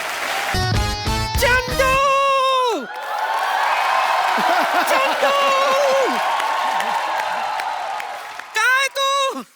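A comedy talk-show studio audience breaks into loud applause with whoops and cheering voices after a short burst of music, the crowd noise sustained for several seconds before music returns.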